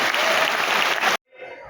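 An audience in Siri Fort Auditorium in Delhi breaks into loud, dense applause for just over a second, then stops abruptly into near silence before a faint trailing sound.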